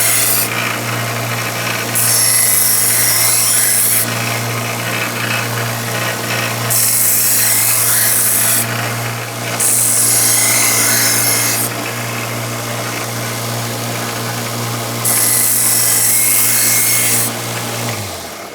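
A blade is ground back and forth on a sharpening stone, loud rhythmic rasping strokes in long bursts of a few seconds each, with a steady low hum underneath and no talking.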